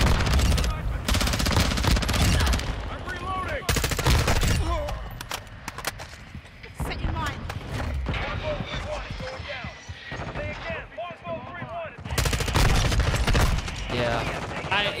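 Gunfire from Modern Warfare 2 multiplayer, rapid automatic bursts from a VEL 46 submachine gun and other weapons, loud and repeated across the clip, mixed with game effects and a player talking throughout.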